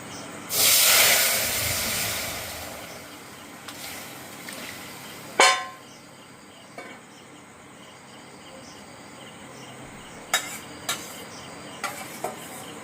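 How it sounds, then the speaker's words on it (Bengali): Singi fish curry with potato and plantain is poured into a small amount of hot oil tempering. A loud, close burst of hissing sizzle rises at once, then fades to a low simmer broken by a few sharp utensil clinks. "এবার এই শেষেও আবার একটু এই অল্প তেলে ফোড়ন দিয়ে এই ঝোলটাকে ঢেলে দেব"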